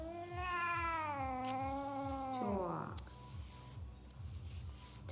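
An elderly female cat meows in long, drawn-out, complaining wails while being brushed, then goes quieter as someone speaks softly to her, with faint rustling in the background.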